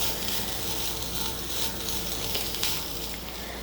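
Grated coconut stirred into squid curry masala frying in a pan, a steady close hiss of sizzling with faint scraping stirs, no talk.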